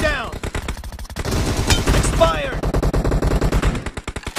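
Rapid automatic gunfire from a mobile shooter game on a Realme 6i Android phone crackles in dense, loud bursts, with short gaps and overlapping game effects.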